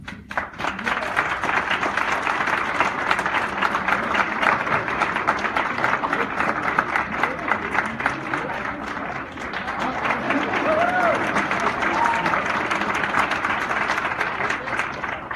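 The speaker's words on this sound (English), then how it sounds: "I want to give them a round of applause" An audience at an Elyria school board meeting applauds Franklin teachers with steady clapping that runs throughout, swelling slightly partway, with faint voices underneath.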